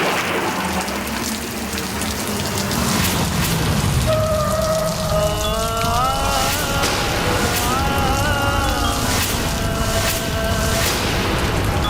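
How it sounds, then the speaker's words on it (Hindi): Heavy rain pours steadily outside, a dense continuous hiss of drops on surfaces that stays loud throughout, with faint tonal sounds drifting over it. "मैम बाहर बारिश ज्यादा थी"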